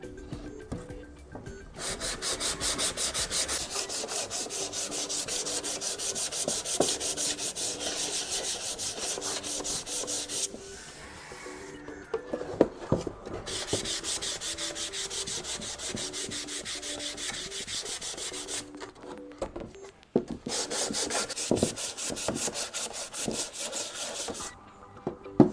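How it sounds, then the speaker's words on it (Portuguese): Fine 220-grit sandpaper rubbed over painted wood of a market crate, a steady scratchy back-and-forth rasp running continuously with two brief pauses, close and alone with no talk. "E agora eu vou passar uma lixa 220, uma lixa mais fina,"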